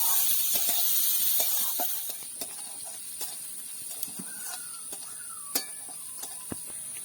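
Chopped onions fry lightly in a pan, a bright sizzling hiss that fades after a couple of seconds into scattered soft pops and crackles, close and steady with no talking.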